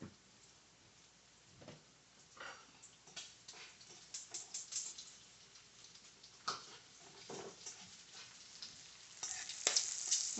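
Onions and bacon frying in a pan for a cookout side dish, a soft steady crackle broken by louder bursts of spitting and scraping, with no talking.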